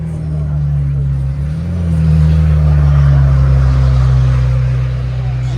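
A car passing by at a French motorsport event, a loud low engine rumble that swells in the middle and eases off, with people talking.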